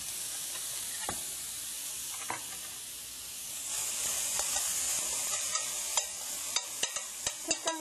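Ingredients for a pork-shoulder lettuce jajang sauce being stir-fried briefly in a pan: a steady close sizzle with a hiss that swells midway, broken by a few early utensil scrapes and a quickening run of sharp clinks near the end.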